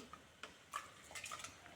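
A spoon stirs roasted-coconut sambar curry in a pot, giving faint, irregular scrapes and soft clicks against the metal, close by with no one talking.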